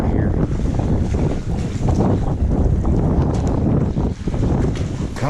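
Strong wind buffets the microphone steadily on cold, muddy winter water while crappie fishing from a boat, a loud roaring rush throughout with faint bits of voice mixed in.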